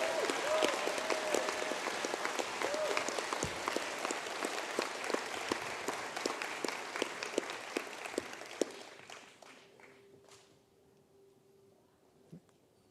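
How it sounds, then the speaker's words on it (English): A hall audience at a college conferring ceremony gives sustained applause for recent graduates. The crisp dense clapping holds for about nine seconds, then fades away to quiet with a faint hum. "I'd like us all to give our recent graduates a very big warm welcome and applause."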